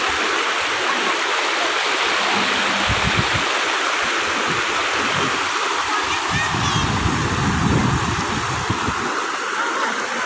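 Clear river water rushes and splashes continuously in Dingalan, Aurora, a steady broadband burble close by, with faint voices of people nearby mixed into the flow.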